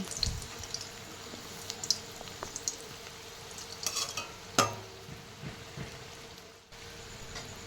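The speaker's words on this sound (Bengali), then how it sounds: "এভাবে লাল লাল করে বাকি বড়াগুলো আমি ভেজে তুলে নেব" Ripe mango fritters bubbling and sizzling in hot oil after being turned over, with a steady low crackle and occasional sharper pops throughout, nearby, without voices.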